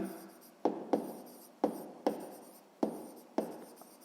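Pen or chalk writing during a sixth-grade maths lesson: six or so crisp, scratchy strokes with short pauses between them, close and clear, with no talk over them.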